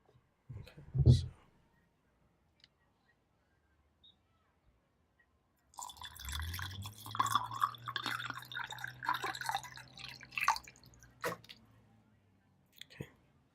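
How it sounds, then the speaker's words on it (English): Water is poured into a container with a soft gurgling, sloshing flow lasting several seconds, preceded by a faint tap and followed by light clicks, quiet and close. "I put water in."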